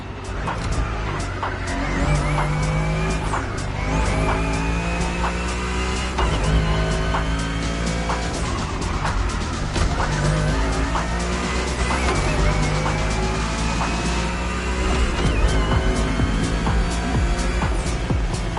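Touring cars racing in The Crew Motorfest video game, a long race running from clear skies into darkness: a steady dense roar of several engines with sustained tones that rise and fall as they shift, loud throughout and with no talking.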